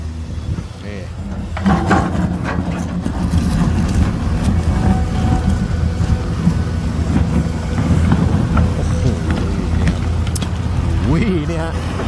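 A Komatsu PC350 excavator prying hard rock at a dam dredging site, its heavy diesel engine droning loudly and steadily throughout, with scraping and knocking of rock under the engine and a voice talking over it.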